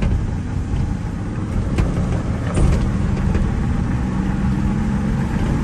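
A Ford Ranger with a newly replaced clutch drives and accelerates after a shift into third gear, its engine a steady loud drone from inside the cab with no talking.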